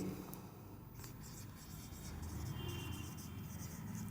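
Steady scratchy rubbing of writing on a board, continuous and fairly close, with a low room hum beneath.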